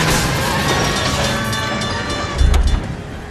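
A tram rolls on rails in the video game L.A. Noire, a continuous loud metallic rumble with clanks and a heavier jolt near the end.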